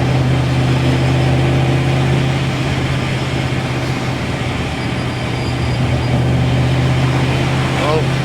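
Ford 3V engine with a supercharger on a full-boost build, running as a loud, steady drone with a constant low hum throughout; a voice speaks over it.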